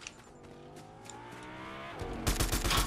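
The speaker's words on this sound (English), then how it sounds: "I hear a car." A car engine in a shooter video game drones with a steadily rising pitch, then loud bursts of gunfire break in over it near the end.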